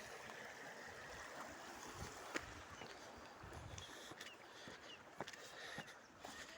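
Clear spring water flows and gurgles in a natural outdoor setting, a steady soft babbling wash with occasional small splashes, fairly faint and continuous.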